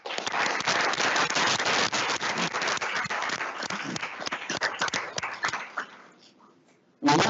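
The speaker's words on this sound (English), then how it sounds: "Please give these students one more big round of applause." Audience applause for students at a school board meeting, several seconds of dense clapping that thins and fades out near the end before a sudden loud sound cuts in.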